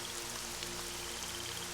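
Steady rain falls in the Nancy Drew: The Legend of the Crystal Skull game, a soft, continuous hiss of drops with a low hum beneath, even and unbroken throughout.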